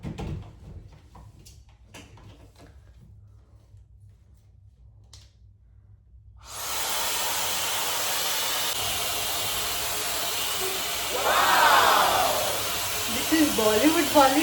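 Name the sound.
hot air comb hair dryer running on fan mode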